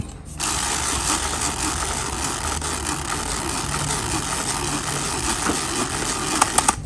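Winding the magazine of a Cyma Thompson M1A1 airsoft gun until full, a dense, continuous ratcheting clatter of small gears running steadily and close, ending in a few sharp clicks.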